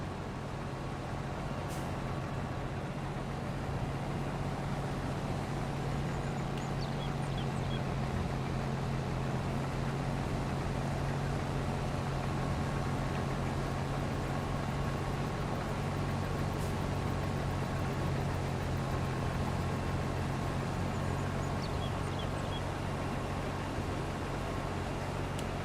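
Tractor and combine harvester engines in a farming video game, a steady low mechanical drone with a constant hum that runs unbroken and fairly loud throughout, with no talk over it.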